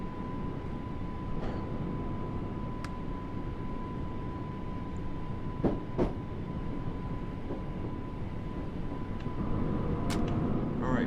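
A Class 484 electric train runs on the Island Line in Train Sim World. It gives a continuous rolling rumble with a steady held tone, occasional sharp clicks and a rise in loudness near the end.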